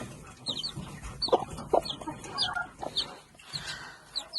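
Soft, high-pitched peeping of five newly hatched chicks repeats throughout, with a few lower clucks from a hen close by.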